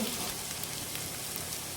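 Okra fries uncovered in a pan, giving a steady, dense sizzle that holds at an even level for the whole short stretch.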